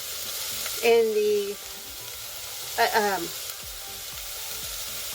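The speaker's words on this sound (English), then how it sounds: "We're going to saute this to the onions are a little bit translucent." Onions, garlic and a jalapeño sautéing in a pan: a continuous sizzle, with a voice speaking briefly over it twice.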